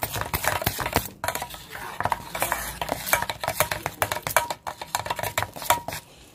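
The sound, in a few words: mixing batter with water for ridge gourd bajji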